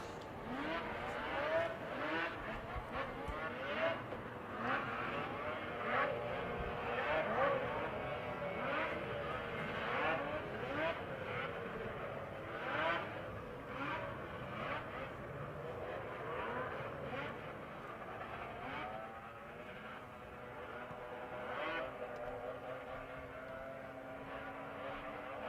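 Racing snowmobiles at a power toboggan championship scream past at a distance, engines repeatedly rising and falling in pitch as machines pass one after another, steady and fairly faint.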